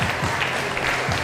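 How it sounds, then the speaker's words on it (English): A crowd claps steadily at a sport parkour championship finals, with dense, even applause filling the hall for a brief stretch at moderate loudness. "round of applause all the same"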